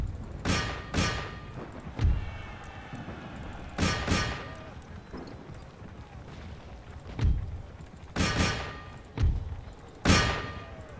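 Artillery batteries fire in a battle in Empire: Total War, a sequence of deep booming blasts with sharp cracks coming in uneven clusters, loud and fairly near over low battlefield rumble.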